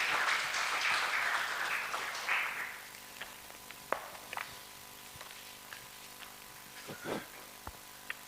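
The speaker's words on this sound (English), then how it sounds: "continue with those claps to escort her until she sits" An audience at a Kenyan research festival event applauds in a dense burst of clapping that thins and fades within a few seconds, leaving a few scattered claps and small knocks in a quiet room.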